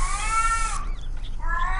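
Drawn-out cat meows in the horror game Caged Fear - Erie, a wavering yowl followed by a shorter second cry after a brief pause, fairly close and clear.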